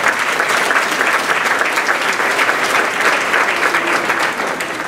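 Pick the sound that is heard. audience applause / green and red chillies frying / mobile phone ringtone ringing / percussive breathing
audience applause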